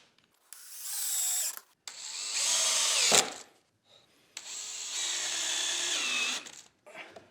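Power drill driving screws into a wooden holiday project clamped on both sides, heard as three long whining bursts separated by short pauses, close and loud with no talking.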